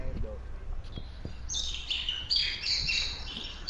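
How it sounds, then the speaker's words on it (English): A bird chirps and tweets outdoors, a few bright calls over a steady low background hum, moderately near. "That is a bird over there?"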